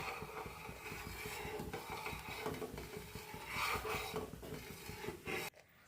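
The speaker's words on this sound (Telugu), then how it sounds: "బాగా మిక్స్ చేస్తూనే ఉండాలి." Sooji upma being stirred in a pan, a continuous close scraping and rubbing of the spoon through thick semolina with a rhythmic back-and-forth texture, ending abruptly.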